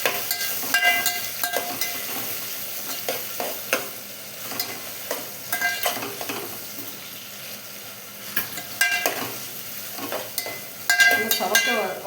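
Onions sauté in a pan for tomato rice, a continuous close sizzle broken by frequent clattering stirs and scrapes of a utensil against the pan, with a voice faintly underneath at times.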